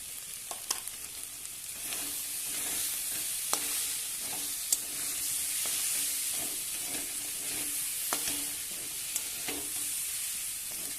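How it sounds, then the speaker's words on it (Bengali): Banana stem with shrimp and spices sizzles steadily in a hot pan while being stirred, with soft scraping clicks scattered through the continuous frying hiss. "লবণটা দিয়ে একটু নেড়ে চেড়ে নামিয়ে নেব।"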